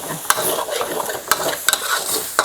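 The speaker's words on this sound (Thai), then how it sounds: "ใส่น้ำปลานะครับ นิดหน่อย อ่ะอีกนิดนึง แล้วก็ผัดอีกทีนึงนะครับ" Curry paste with a little fish sauce stir-fries loudly in a pan, a continuous sizzle broken by sharp scrapes and clacks of a spatula against the metal, close up.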